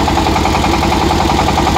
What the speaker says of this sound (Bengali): জেনারেটরটাকে অন করা হলো